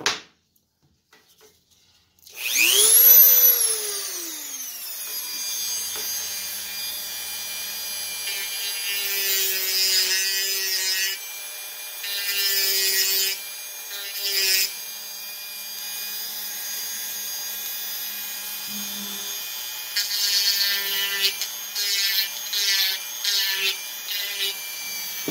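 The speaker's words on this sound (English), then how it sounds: "then I'll get back in to sanding it down with the fine sandpaper" A Derringer pistol grip or wooden part is sanded with fine sandpaper, close and fairly quiet, in repeated rubbing strokes with short pauses, after a sharp rising squeak near the start.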